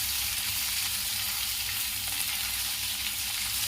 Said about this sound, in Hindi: जीरा और ये धनिया थोड़ा चला दूंगी।